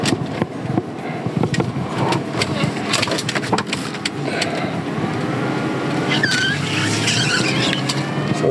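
Car driving through a roundabout in The Villages, Florida, with steady engine and tire noise close up, rising slightly as the vehicle turns, with light road rumble throughout.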